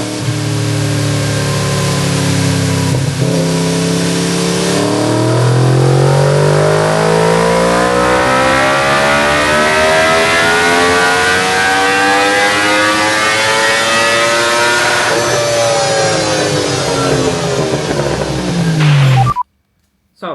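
A Yamaha R1 motorcycle fitted with MWR velocity stacks, a DNA filter and a custom tune, revving on a dyno: a loud, sustained engine note climbing steadily in pitch through the rev range for about nineteen seconds, then cutting off abruptly.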